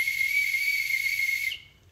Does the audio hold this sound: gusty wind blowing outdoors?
no